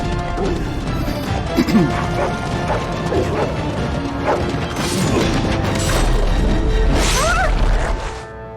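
Several hounds bark, snarl and scuffle in a Dragon Age: Origins battle, the noise dense and continuous amid clashing combat impacts and a player's voice, swelling louder in the second half before dropping off at the end.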